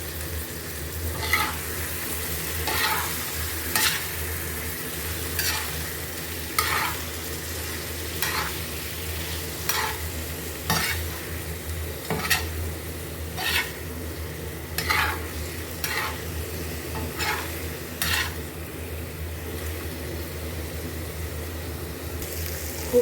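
Half a kilo of chicken frying on a hot tawa with garlic and ginger, a steady loud sizzle under repeated rhythmic scrapes and stirs of a utensil across the pan, about every one to two seconds.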